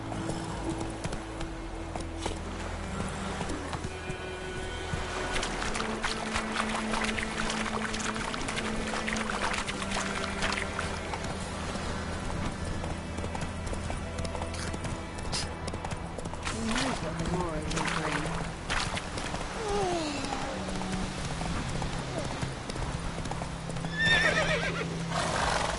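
Roach, a horse in The Witcher 3, trots with a steady clip-clop of hooves and gives whinnying neighs over a bed of game music, while someone talks at intervals throughout.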